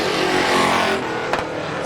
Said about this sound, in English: Justin Storis in the 22X working the outside groove on Kenny Scott now for the 2nd spot